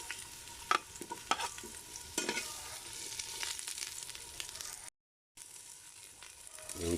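Onions sizzle and brown in a pan with garlic, a steady close hiss of frying with occasional stirring scrapes and clicks, quiet and continuous with a brief gap.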